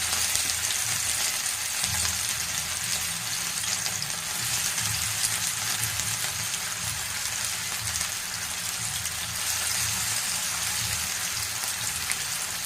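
Fish frying in a pan, a steady, loud, dense sizzle that holds evenly throughout with no talking.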